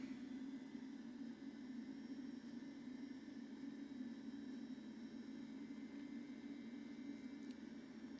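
Simulated Boeing 767-300ER jet engines at takeoff thrust in X-Plane 12, a steady, faint droning roar with a strong low hum and a constant airy hiss, unchanging throughout.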